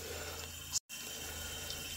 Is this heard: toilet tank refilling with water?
yes